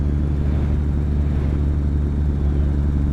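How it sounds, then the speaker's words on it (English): Steady traffic rumble from cars driving along the roads of a video game, a dense continuous engine drone with no pauses and no voices over it. "you got all these nice sounds of the cars passing through"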